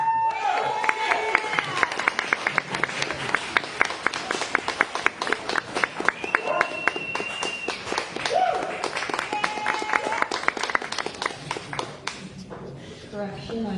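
An open mic reading crowd claps for a first-time reader, a dense patter of close applause with voices talking over it before it thins out and stops.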